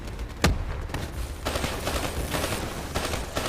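Dense automatic gunfire from a Call of Duty Black Ops 3 combat mission: a sharp, loud blast opens, then sustained overlapping bursts keep rattling close by without a break.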